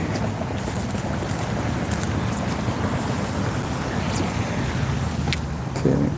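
Road traffic beside a main street in Allen rolls past as a continuous broadband rumble with wind buffeting the microphone, vehicles passing at moderate distance without any talk.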